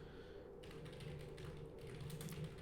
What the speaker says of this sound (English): I hear lots of frantic typing.